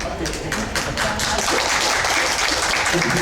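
Audience applause at a lecture on industrial energy policy, a dense, continuous patter of many hands clapping at fairly even loudness for a few seconds.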